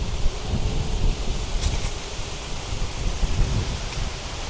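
Gusty cold wind in an open park, strong enough to push a rider off a bike, batters the microphone with a rumbling, rustling roar that surges and eases over a few seconds, with no talking.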